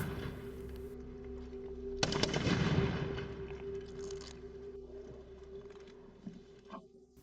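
Large Japanese matchlock guns fired in a volley by a castle gun corps make a heavy, booming roar that swells and rumbles away slowly. It sounds distant over a steady background hum.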